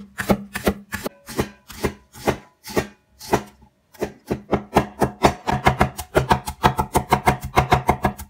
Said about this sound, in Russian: Которую мы режем колечками